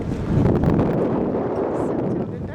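Wind buffets the microphone on the back of a boat pulling away from a city park pier on a windy day, a loud steady rumble and rush across the whole moment.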